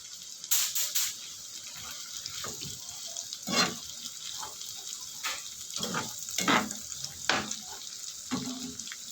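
Tofu sizzling and frying in a pan with pork ears, with intermittent stirring clatter and bursts of spatter over a steady hiss, close by.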